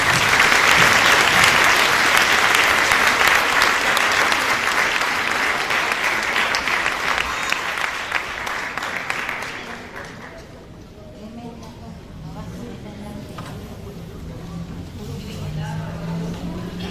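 Audience applause at a choral festival welcoming a teen and adult conservatory choir, loud dense clapping for about ten seconds that fades away, followed by quieter room sound and faint talk.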